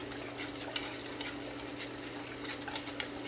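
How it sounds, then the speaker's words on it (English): Condensed milk being stirred in a pot, a spoon scraping the bottom in a steady rhythm with occasional sharper clicks over a low, constant background hum. "And keep stirring."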